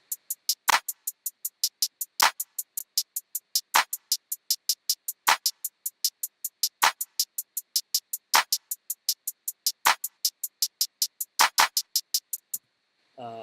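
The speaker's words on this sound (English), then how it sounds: "Claps coming in on the 3s, and I'll leave the hi-hats in so you can get kind of a frame of reference" A steady electronic hi-hat pattern ticks along in a fast, even rhythm, with a louder clap landing every couple of seconds; no voices.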